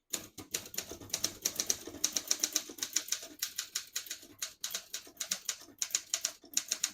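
Rapid, steady keystrokes with sharp type-bar strikes on a 1970 Olympia SM9 portable typewriter typing in red ribbon, close and crisp with a light, even rhythm.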